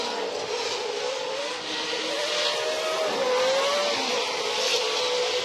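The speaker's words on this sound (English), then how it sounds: "So CJ now worked into second place in this Pro 4-wheel drive final" Off-road race trucks in a Pro 4-wheel drive final at a TORC round, engines roaring steadily in the distance as the pack runs, a sustained high drone with a rising whine, no talk.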